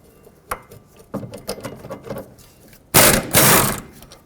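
Ratchet working on 17mm bracket bolts at the rear wheel knuckle of a 2001-2007 Toyota Highlander, a quick series of close metallic clicks followed by a louder burst of rattling, no speech.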